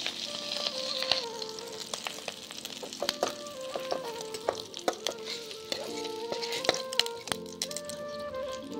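Prawns fry in hot, foaming mustard oil with a soft sizzle, while a utensil clinks, scrapes and taps against the pan in irregular bursts, close and fairly quiet.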